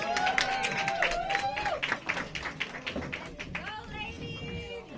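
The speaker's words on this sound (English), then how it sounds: "Let's give them a round of applause, y'all." An audience at the DC Go-Go Museum claps for the First Ladies of Go-Go, the applause mixed with cheering, whoops and overlapping voices throughout.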